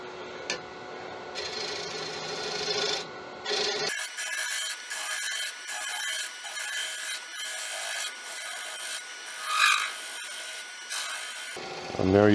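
Wood lathe spinning a cherry bowl blank at around 800 rpm, with a steady motor whine and scraping, hissing cuts of a gouge riding the bevel; continuous and close, without speech, one brief louder cut near the end.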